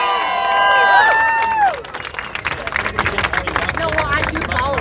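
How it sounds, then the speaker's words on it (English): A crowd at a vote fraud protest in Phoenix, Arizona claps and cheers for a veteran. The clapping is loose and scattered, mixed with hubbub and chatter, following a loud electronic tone that bends downward at the start. "Let's give him a round of applause."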